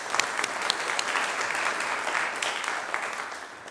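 Audience applause at a lecture, a dense wash of clapping from a crowd sustained for several seconds and tapering slightly at the end.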